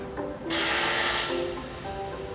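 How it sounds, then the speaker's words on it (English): Construction noise on a street in Da Nang: a loud burst of harsh hissing, grinding noise rises abruptly, holds for about a second, then fades under a lower droning background. "very loud construction noise."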